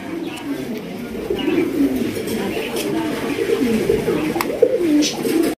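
A pair of large Lahori pigeons coo close by in repeated low, throaty rolling calls that overlap one another.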